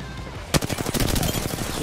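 Rapid bursts of video game gunfire, loud and close, beginning abruptly partway in and continuing as a dense rattling volley under faint talk.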